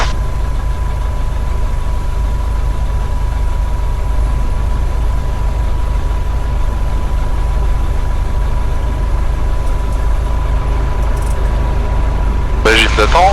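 A light aircraft engine idles steadily at the runway holding point before engine run-up checks, a loud, constant drone with a low rumble and a faint steady whine throughout, and a brief burst of other noise near the end.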